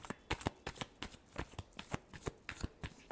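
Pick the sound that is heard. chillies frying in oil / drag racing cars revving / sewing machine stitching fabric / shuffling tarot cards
shuffling tarot cards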